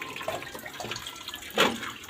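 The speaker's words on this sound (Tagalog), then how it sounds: "sasalinan ko naman ng tubig yung mga timba para maisalin ko dun sa washing machine" Water running from a tap and splashing into buckets, a short soft stream with a brief louder gush near the end, no voices.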